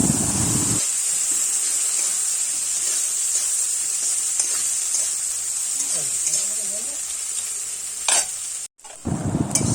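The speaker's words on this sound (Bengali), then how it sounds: "বেশ অনেক পরিমাণে পেঁয়াজ কুচি দিলাম। বেশ কিছুক্ষণ নেড়েচেড়ে নিতে হবে।" Plenty of chopped onions fry in a pan while being stirred, a steady bright sizzle running throughout with soft scraping stirs and a brief clatter near the end; a voice speaks faintly in places.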